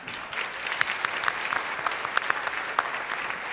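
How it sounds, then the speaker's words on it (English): A crowd applauding at a United Way luncheon, a broad, even round of clapping from many hands with a few sharper individual claps standing out, heard at moderate distance throughout. "One more big round of applause for our friends."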